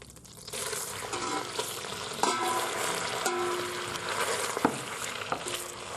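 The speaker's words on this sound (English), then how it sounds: "So we're just going to seal the meat in the cooking vessel" Beef, onions and garlic searing in melted butter inside a Morphy Richards Supreme Precision 3-in-1 slow cooker pot, giving a loud, dense continuous sizzle with occasional sharp clicks and scrapes.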